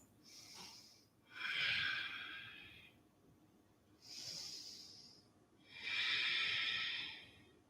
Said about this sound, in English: Big gentle exhales.